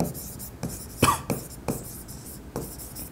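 Pen strokes on paper while writing a bookkeeping entry in an accounting lesson, coming as a few short scratchy bursts spaced across the moment, fairly close and quiet.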